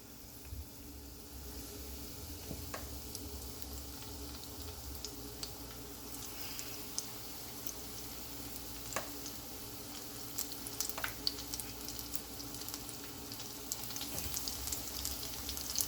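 Jamaican-style saltfish fritters fry in a pot of hot oil, giving a steady, close crackling sizzle with scattered sharp pops throughout and no voices.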